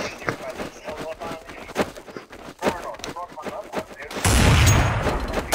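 Counter-Strike: Source gunfire in a played match, a series of sharp shots scattered under a talking player's voice, ending in a louder, sustained burst of gunfire near the close.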